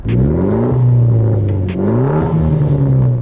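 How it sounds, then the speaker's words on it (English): A Mitsubishi EVO X fitted with a blue-tip Spec D aftermarket exhaust revs up close and loud, with two rising engine sweeps, a brief dip between them, and a deep exhaust note throughout. "we have this blue tip Spec D exhaust that just sounds really well with this car."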